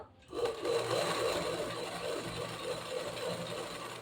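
After a brief quiet start, a sewing machine runs steadily, stitching a zigzag fold in fabric, a close whirring motor with rapid needle chatter that rises and eases slightly as it goes.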